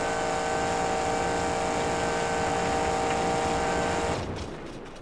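A monster truck engine in the BeamNG driving game drones at a steady loud pitch for several seconds, then cuts out and fades as the engine dies, with no voices.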